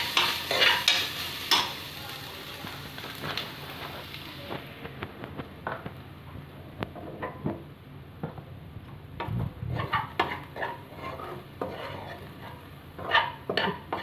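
Grated coconut and cardamom powder being stirred in a pan, with repeated scraping and clinking of a spoon against metal and a soft sizzle, close and fairly quiet.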